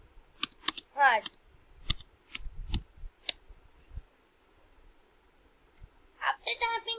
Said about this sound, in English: And again you have to type here work hard.